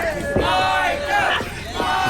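A wrestling crowd at a live independent show in Cross Lanes roars and yells in split support for two wrestlers, loud and close, with rising chants and shouts swelling in waves.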